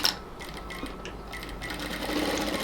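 A sewing machine runs steadily, stitching cotton palazzo fabric, with a continuous close mechanical whir and a brief sharper start.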